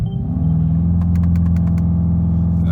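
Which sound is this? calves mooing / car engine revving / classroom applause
car engine revving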